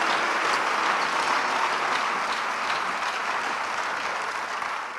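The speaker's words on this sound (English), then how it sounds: "Let's clap for them." Loud, sustained clapping from a large church congregation at a Phaneroo service, a thick unbroken wall of applause that tapers slightly near the end, with no one speaking over it.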